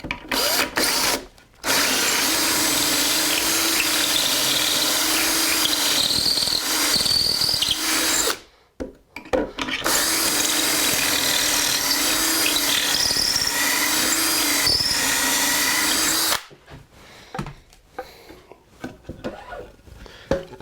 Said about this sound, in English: I'm going to put 6 screws across here